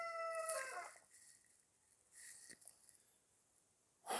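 A rooster crows loudly and close by in a long drawn-out call, followed by fainter clucking and scattered short calls, with no talking.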